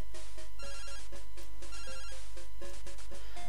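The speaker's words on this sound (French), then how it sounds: "Et là, c'est le coup de fil." Repeating electronic telephone ringtone from the Pokémon Silver game, a bright chiptune trill sounding in several even bursts over steady background game music, close and clear with no talking.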